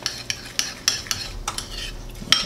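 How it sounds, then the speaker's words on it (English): A spoon briskly stirring sugar-free caramel syrup for a pecan pie mug cake, with quick rhythmic clinks and scrapes against the mug coming about three or four per second, close and clear, with no talking. "Going to give that a good stir so it's made a nice beautiful syrup to go over our mug cake"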